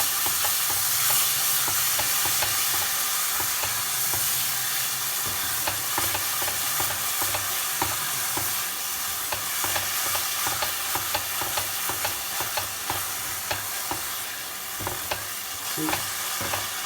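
Fresh tomato puree sizzling and spitting in a hot pan while cooking matar paneer, a dense continuous fry hiss broken by the regular scrapes of stirring.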